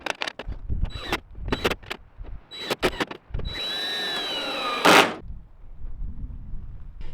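A cordless power drill drives screws into metal gazebo roof panels in short, loud, close bursts. One longer whirring run ends in a sharp grinding peak as a screw seats, followed by faint handling clatter.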